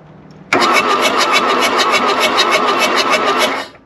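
An old Volkswagen Rabbit diesel engine cranks briefly, then catches and runs loud and close with a rough, rapid clatter for about three seconds before cutting off.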